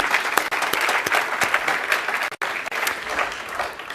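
Conference audience applauding the organizers and volunteers at the closing keynote of the NewSpace 2017 aerospace conference, loud sustained clapping from a large hall with individual sharp claps standing out, briefly dipping near the middle.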